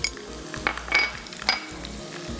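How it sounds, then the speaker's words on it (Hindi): Garlic and ginger hit browned onions in a hot pan, giving a steady close sizzle with a few spoon-against-metal clinks and stirring scrapes over it. "प्याज जो हमारी थोड़ी सी ब्राउन हो चुकी है, तो इसमें डाल देंगे लहसुन अदरक"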